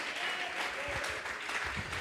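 A church congregation at a Sunday service applauds, steady dense clapping from many hands throughout, fairly close and unbroken.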